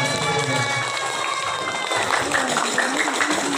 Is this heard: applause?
yes